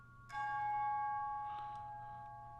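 Orchestral bell struck with a light mallet, a single bright chime with a sustained ringing tone that slowly decays, played alone as light melodic percussion.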